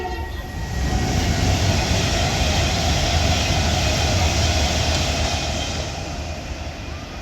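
An Avanti West Coast Class 390 Pendolino roars loudly and steadily through Lichfield Trent Valley station, its horn sounding over the rushing wheel and air noise for the whole pass.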